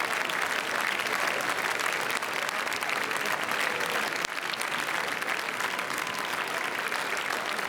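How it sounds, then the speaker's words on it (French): An audience applauds in the Palais des Festivals hall at Cannes during a red carpet arrival, a dense continuous wash of clapping filling a large room, sustained at an even level throughout. "you can hear the whole room applauding"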